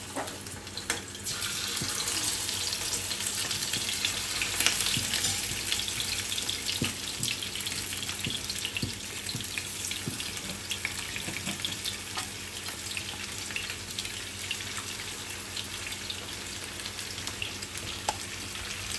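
Food frying in a pan in a home kitchen, with a steady close sizzle and crackle running throughout, with no talk.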